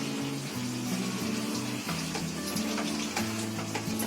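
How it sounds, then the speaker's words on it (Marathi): A steady sizzle of chicken stew with tomato paste frying in a pan with scraping stirs, while a low melodic tone of background music plays throughout. "आता आपलं चिकन चांगलं ढवळून घेतलंय"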